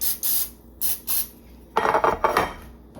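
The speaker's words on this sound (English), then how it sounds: "I'm gonna spray these cups with a little bit of spray oil." Short hissing bursts of an aerosol cooking oil spray coating cups, several quick spritzes in a row, followed by a clatter of metal against metal.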